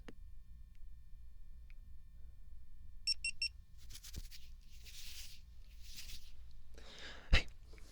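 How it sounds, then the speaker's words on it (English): Short burst of electronic beeps, three quick tones about a few seconds in, then a sharp blip near the end over a quiet room with faint rustles and breathy noises. "Here comes a beep."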